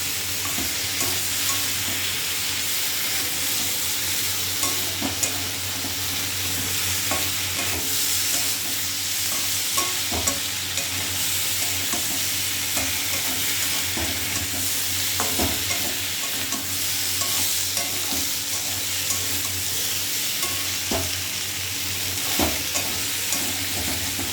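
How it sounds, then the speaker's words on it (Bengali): A paste of ground cumin and turmeric sizzles steadily in hot oil, a constant close crackle with intermittent soft taps and scrapes of a stirring spoon throughout, and no voices. "এই যে মশলাটা ভাজা ভাজা হয়ে গেছে"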